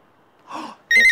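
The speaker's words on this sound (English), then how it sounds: "the maker phone's ringing" Toy maker phone from a clay craft play set ringing with a sudden bright electronic tone right after a short breathy sound, loud and close.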